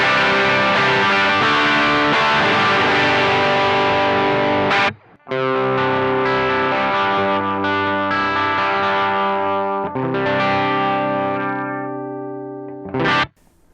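Overdriven electric guitar through a BOSS BD-2W Blues Driver pedal in standard mode, gain at noon, playing sustained chords and riffs, loud and up close, with a brief pause midway and a final strum cut short. No voices.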